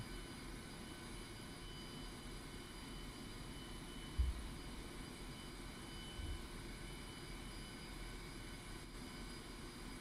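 Steady roar of a Su-25 Frogfoot jet engine at full throttle in DCS World, a broad, even rumble with a high whine held constant throughout, with no voices.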